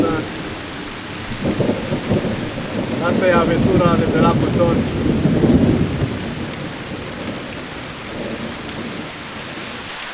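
Thunderstorm with rain over a fishing lake, a steady wash of rainfall with a loud rumble of thunder building and fading in the middle, while someone talks over it.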